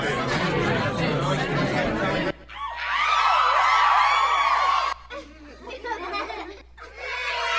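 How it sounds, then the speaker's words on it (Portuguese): Bar ambience from a sound effects collection: a busy crowd of overlapping voices chattering with bursts of laughter, pausing briefly before the murmur resumes, loud and close throughout. "Som de bar."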